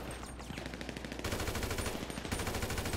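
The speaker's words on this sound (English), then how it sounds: "team 2, they immediately start shooting" Dense, rapid automatic gunfire from teams shooting in GTA Online Creator mode, a loud continuous rattle of overlapping shots that grows heavier partway through and keeps going.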